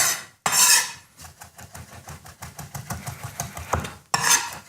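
A knife chops chickpea falafel mixture on a board with quick, rhythmic thuds and clacks. Brief louder scraping bursts at the start and end suggest the blade gathering the mixture back together. No one speaks.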